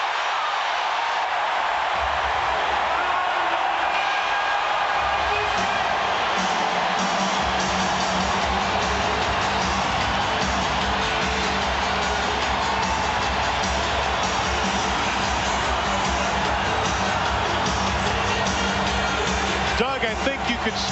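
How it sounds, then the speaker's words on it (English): A packed arena crowd roars continuously at a 1993 NBA playoff basketball game between the Knicks and Charlotte, a loud sustained wall of cheering and whooping with a commentator talking over it. "The crowd is going ballistic."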